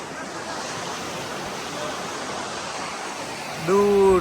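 Continuous broadband wash of sea waves breaking on Devka Beach, Daman, a steady roar without distinct breaks, with a brief tonal sound near the end.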